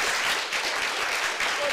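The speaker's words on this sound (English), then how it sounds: "could I please invite you all to have another round of standing applause" An audience on its feet gives a standing ovation at a women's sustainability science week event, a loud, continuous wash of many clapping hands with no gaps.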